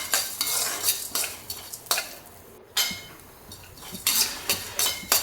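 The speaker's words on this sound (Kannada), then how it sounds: "ಅರ್ಧ ಚಮಚ ಮೆಂತೆ ಹಾಕಿ ಸ್ವಲ್ಪ ಹುರ್ಕೊಳ್ಬೇಕು." Half a spoon of fenugreek seeds dry-roasting for bisi bele bath spice powder, stirred in a pan with a spoon. Repeated scraping and rattling strokes with light clinks, close and fairly clear, with a brief pause midway and no talking.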